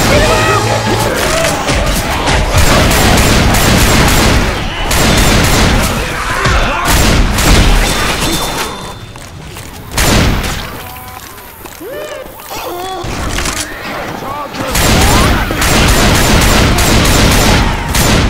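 Dense bursts of video game gunfire from double pistols in a Parish campaign, loud, rapid volleys with booms and crashes over several stretches, broken by brief lulls and with voices shouting over the shooting.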